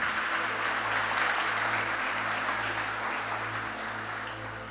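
A church congregation applauds during a sermon, a steady, dense wash of clapping that holds for several seconds and fades slightly at the end, with no voices over it.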